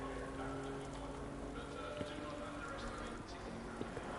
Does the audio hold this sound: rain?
yes